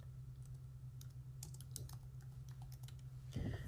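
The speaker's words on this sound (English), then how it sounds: "let me go ahead and just type in stock images" A search being typed on a computer keyboard as a quick run of light, close key taps over a steady low hum, ending in a slightly louder press.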